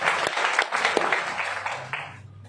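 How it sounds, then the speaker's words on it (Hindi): Applause from a hall audience at a Nexmoney business event, dense clapping with distinct sharp claps, fading out toward the end as a low hum remains. "एक बार फिर से अपने आप के लिए शानदार तालियां"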